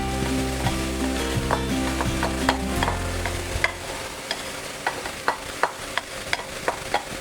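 Shallots, tomatoes and chilies are stir-fried for a Thai pork chili paste, with sharp spatula scrapes and clacks against the pan repeating over a loud sizzle that fades partway through.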